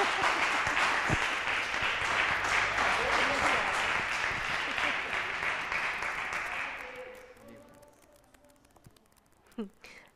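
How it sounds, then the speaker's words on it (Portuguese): A church congregation applauds for their pastor Fabiana, dense sustained clapping from a crowd that fades after several seconds into quieter room sound with a few faint noises. "Vamos aplaudir a Jesus pela vida da nossa pastora Fabiana."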